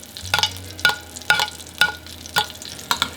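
Bone-in lamb sizzles in a pan of oil while a spoon repeatedly scoops hot fat over the meat, a low steady frying hiss broken by six sharp spoon-and-splash bursts at a regular pace.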